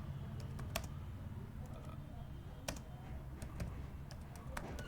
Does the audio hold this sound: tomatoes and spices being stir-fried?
no